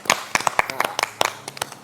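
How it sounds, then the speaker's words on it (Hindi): An audience at a yoga session claps in quick, uneven bursts of sharp hand claps, close and lively, with people talking underneath. "एक बार जोरदार ताली बजा दो।"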